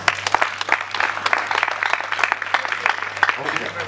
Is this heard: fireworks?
no